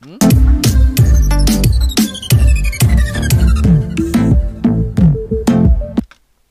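Instrumental backing track for a song, with bright layered tones over a steady, punchy beat, playing loud and full for about six seconds before cutting off abruptly.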